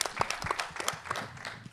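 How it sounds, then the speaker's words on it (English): Audience applauding at a New York Film Festival screening talk for actress Danielle Deadwyler of the film Till, a brief burst of scattered hand claps close by. "I just need to give you another round of applause for this testimony"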